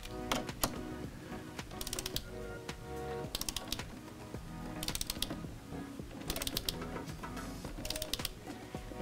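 Wrench torquing the nuts on a battery terminal fuse block in an off-grid electrical system, a close run of rapid ratcheting clicks in short repeated bursts, steady and moderately loud.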